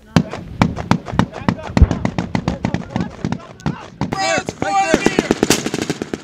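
Rapid machine gun bursts ring out in an A-10 Warthog close-support video game, dense and loud, with heavier thumping fire near the end and players talking over the shooting.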